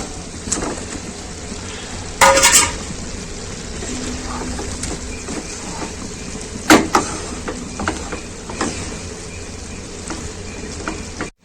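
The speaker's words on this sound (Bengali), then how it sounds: "মশলা থেকে এবারে তেলটা ছেড়ে গেছে, এবারে আমি আলু আর ডিম দিয়ে দেবো" Potatoes and eggs sizzle in oily biryani masala, a moderate steady frying hiss broken by a few sharp clatters and scrapes of stirring, with no talk over it.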